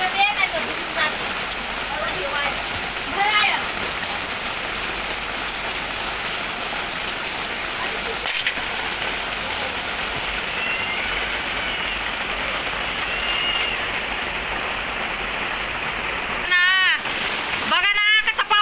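Steady rain patters on a surface outdoors at night near a wood-fired stove, a continuous close hiss that runs throughout with brief bursts of louder splashing at the end, while people talk over it.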